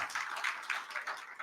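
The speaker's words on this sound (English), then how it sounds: "let's give a round of applause for Dr. Sadiq Sulaiman Abdullahi" Conference audience applauding in a hall, a dense wash of many hands clapping steadily with small swells, moderately distant and fairly quiet, with no speech over it.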